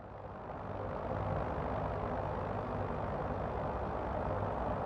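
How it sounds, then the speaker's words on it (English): A Hiller UH-12B helicopter in Microsoft Flight Simulator, a steady broadband rotor and engine drone that swells slightly in the first second and then holds loud and unbroken, with no talk. "it's really nice helicopter"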